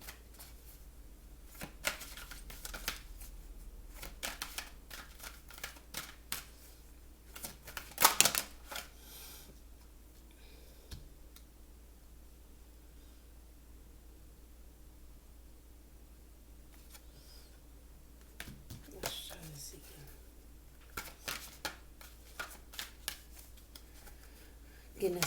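Oracle cards being shuffled by hand in a quiet room, a run of soft papery riffles and taps, loudest in a brief burst midway, with faint voice in the background.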